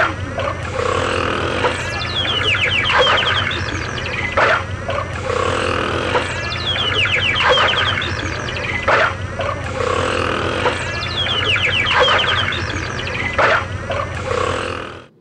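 Repeated chirping, whistling calls in bursts over a steady low hum, loud and rhythmic, resembling underwater whale communication recorded through a hydrophone.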